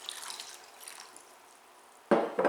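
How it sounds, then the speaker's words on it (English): Water is poured into a pot holding unpeeled potatoes, a soft trickle at first, then two short, louder splashing pours near the end. "put them in a pot and add enough water to cover the potatoes by 2 inches"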